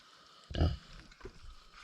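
Kunekune sow among her newborn piglets, giving one loud, close grunt followed by a softer snuffling grunt a moment later over a quiet barn background.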